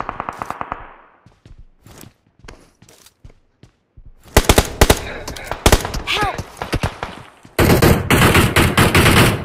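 Video-game gunfire in BGMI: scattered single shots and short bursts early, then rapid machine-gun volleys and sustained automatic fire near the end, loud and close, with a player talking in between.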